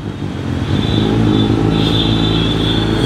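Busy road traffic at a college crossroads, with cars and motorcycles passing close in a loud continuous rumble, engines revving and a faint high whine rising over the flow.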